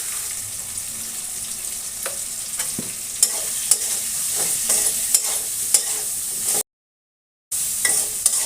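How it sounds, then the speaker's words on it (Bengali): Pumpkin shoots fry with turmeric in a pan over a medium-low flame, giving a steady sizzle punctuated by scraping stirring strokes, with one brief dropout of silence near the end. "জালটা মিডিয়াম টু লো ফ্লেমে রেখে ভাজাভাজি সারছি আমি"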